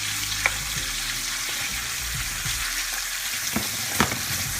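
Pork jowls fry in a pot for collard greens, a continuous close sizzle and crackle with occasional sharp pops and light scraping.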